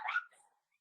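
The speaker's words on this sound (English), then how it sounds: "pardon the barking" A single short dog bark, fairly faint and a little distant, trailing off quickly into silence.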